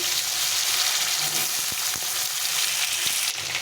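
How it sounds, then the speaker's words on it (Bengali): Potato pieces sizzle steadily in hot oil tempered with dried chilli, bay leaf and cumin, a close, continuous frying hiss with a few soft scraping knocks, no voices. "আলুটা একটু ভাজা ভাজা হয়ে গেছে"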